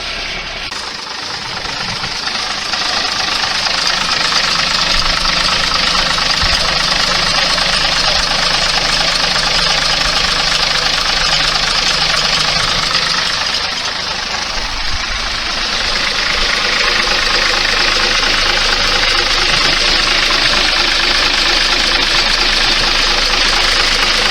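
A 1961 Mack B61 truck engine idles steadily and loudly at close range, a continuous rumbling drone with a slight dip in level midway and no talk over it.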